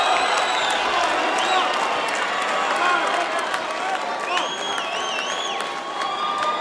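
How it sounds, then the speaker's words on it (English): Arena crowd at a 2007 mixed martial arts event at the Orleans Arena in Las Vegas cheering and applauding for a fighter, a steady, dense roar with whistles and shouts, loud and continuous, under a commentator's voice. "Now the applause there for Eastman."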